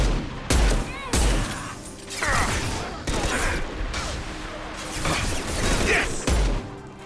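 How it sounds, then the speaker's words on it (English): High-impact gunshots in Mass Effect 2 boom in heavy, close bursts, several loud blasts with crashing impacts over continuous battle noise and a shouted voice. "Firing a high-impact shot!"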